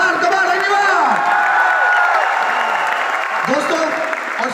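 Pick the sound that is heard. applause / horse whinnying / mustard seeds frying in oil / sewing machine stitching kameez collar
applause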